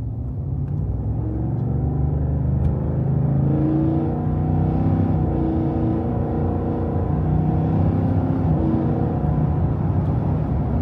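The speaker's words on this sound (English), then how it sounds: "listen to that 5-liter. That is what I love about this truck." A Ford F-150 truck with a 5.0-liter V8 engine revs steadily with a deep, continuous rumble that stays loud and close throughout, with no voices.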